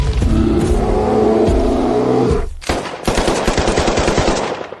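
Six guns fire at a bear in a rapid, loud volley of overlapping shots that continue as a dense rattling burst after a brief pause.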